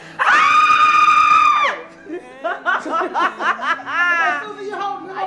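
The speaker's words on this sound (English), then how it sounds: "Can we all scream?" Group of people at a celebration scream together in one loud, sustained burst, then break into giggles and laughter close by.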